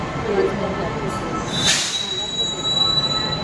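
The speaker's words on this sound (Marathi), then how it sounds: "मेट्रोची वाट बघतोय येईल आता" A metro train arriving at a station platform rumbles steadily with a thin metallic squeal of wheels and a brief hiss, while people talk in the background.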